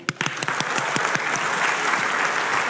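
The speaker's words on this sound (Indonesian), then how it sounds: "Tepuk tangan dong." A church congregation of Gereja Kristus di Indonesia applauds during a sermon, opening with a few distinct separate claps that quickly swell into steady, dense clapping from the whole room.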